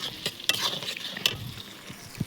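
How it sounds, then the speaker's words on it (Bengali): Onions lightly frying in a pan for an egg and young jackfruit curry, with a soft steady sizzle broken by several sharp stirring scrapes and clicks, no voices. "এবার পেঁয়াজ দিয়ে দিয়েছি, পেঁয়াজটা হালকা ভাজা করে নেব"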